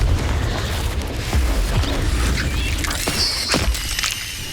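Confringo and Incendio spells exploding in Hogwarts Legacy on PS5, a loud continuous run of booms and fiery bursts with sharp cracks layered over a rumbling low end.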